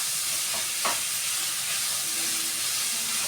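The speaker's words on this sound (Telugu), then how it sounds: "బాగా ఫ్రై చేయాలి." Dry dates frying in a pan for sugar-free halwa give a steady soft sizzle and hiss throughout, with a brief louder scrape of stirring near the start and no talk.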